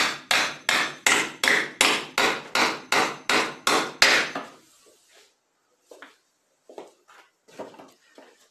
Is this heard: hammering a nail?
yes